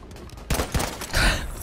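Rifle gunfire in the shooter game Battlefield V, a short burst of close, loud shots followed by a rougher blast.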